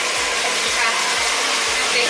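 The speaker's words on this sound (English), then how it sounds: "Leave the hair blower when you're done." A hair dryer roars steadily and loudly in a household setting, with a low pulsing thump repeating about twice a second beneath the constant airy blast.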